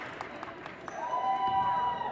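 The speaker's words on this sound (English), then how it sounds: "Crowd is noticeably getting into this a bit more too." A gymnasium crowd at a volleyball match applauds and cheers. Claps come first, then the roar swells into sustained cheering with a whistle-like tone, while a voice talks nearby.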